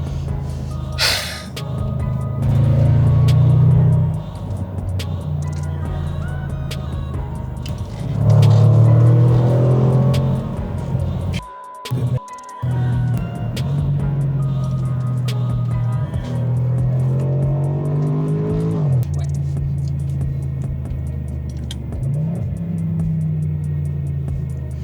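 A Range Rover SVR SUV with a 575 hp engine accelerates hard in repeated surges, deep engine roar rising through gears with brief lulls between pulls, heard from inside the cabin.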